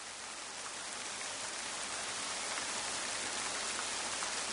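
Steady rain falls in a mountain forest where an old man is cutting wood, a dense, even hiss of drops on surfaces filling the whole stretch without pause.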